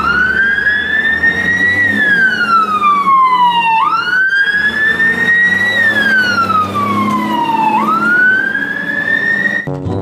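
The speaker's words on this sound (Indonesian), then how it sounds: "Di sini ada mobil pemadam kebakaran." A loud fire truck siren wails up and down in slow sweeping cycles, close by, with engine rumble underneath.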